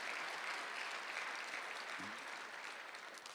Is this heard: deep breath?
no